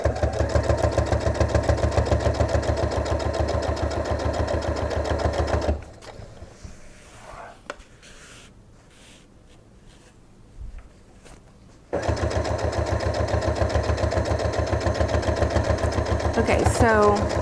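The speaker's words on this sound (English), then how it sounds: "This just feeds under here, just like you're doing any other binding. And we're just going to start sewing." A sewing machine runs fast and steady as it stitches binding onto a quilt, a close mechanical whir that stops for a quiet stretch of handling sounds, then starts again and runs on.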